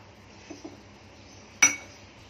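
Eggs dropped one at a time into a pan of simmering egg curry, giving two soft taps followed by a single sharper clink, close and clear against quiet kitchen background.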